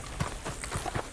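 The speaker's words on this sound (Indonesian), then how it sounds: "Kudanya kembali gitu. Kuda kita kembali." Horse hooves in Red Dead Redemption 2 as the horse comes back, a quick run of rhythmic clip-clop hoofbeats on the ground, moderately loud and close.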